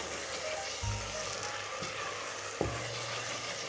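Potatoes go into a pan of sizzling berbere sauce for a potato stew, and the frying hisses steadily throughout. There is a soft clunk of utensils and one sharp knock, and no one talks.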